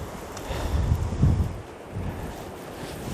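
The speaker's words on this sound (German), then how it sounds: "Ganz schön windig, oder?" Strong gusty wind in the mountains of Mallorca, a rushing roar buffeting the microphone, swelling and easing in waves, close and loud with no talk.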